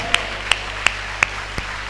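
A church congregation gives a round of applause during worship, heard as sparse, sharp claps spaced roughly evenly, at moderate distance over a steady low hum, with no talking.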